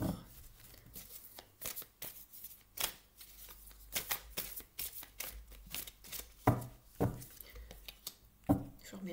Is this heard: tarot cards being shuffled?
yes